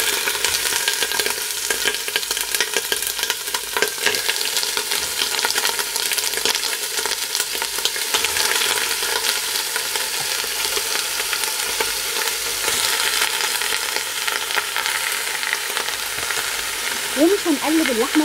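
Beef pieces fry in fat with a whole chili pepper, a steady close sizzle and crackle running unbroken throughout, with occasional stirring scrapes and no talk.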